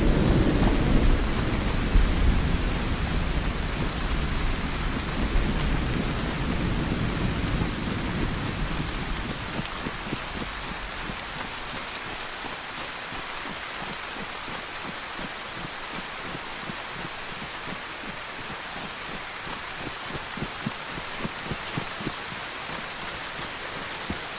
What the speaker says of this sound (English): I swear they just put the rain on.